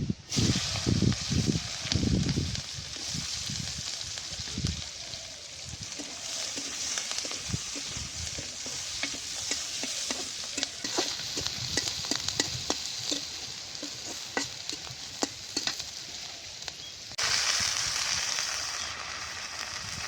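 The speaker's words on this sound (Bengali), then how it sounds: "ওই চালে পেঁয়াজ আর কাঁচামরিচ দিয়ে দেবো।" Onions and green chilies are stirred in a hot pan where fish was just fried, making a continuous sizzle with repeated scraping and clattering strokes close by that stay fairly loud throughout.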